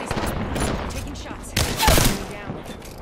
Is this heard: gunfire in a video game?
yes